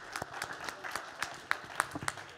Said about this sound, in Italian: Quindi un grande applauso